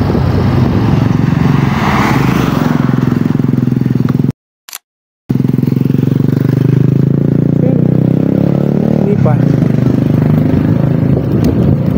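Motorcycle ridden along a rural road to Sinuknipan I, Del Gallego, its engine droning steadily and loud with wind rumble and clatter, cut by a brief gap of near silence midway.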